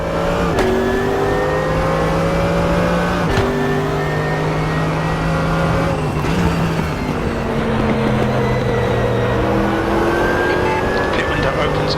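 A Mercedes AMG GT3 race car in the RaceRoom racing game revs hard through the gears with a loud, steady engine roar. Rising pitch sweeps are broken by quick shifts, and other GT3 and GT4 cars can be heard nearby.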